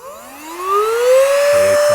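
A small battery-powered Rubot handheld vacuum starting up, its whine rising steadily in pitch then holding a loud, steady motor tone close by, no talking.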